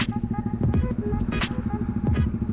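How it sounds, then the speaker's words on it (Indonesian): Kawasaki Ninja 250 fi motorcycle fitted with a Pavta aftermarket exhaust, idling or cruising with a steady, low, evenly pulsing burble, close and moderately loud, with a few faint clatters over it. "sambil dengerin knalpot Pafta yang adem, ulem, dan sopan ya"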